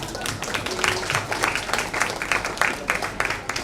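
Audience applause at a book launch for Anusha Subramanian, a dense, steady burst of many hands clapping close by for several seconds with crowd murmur underneath.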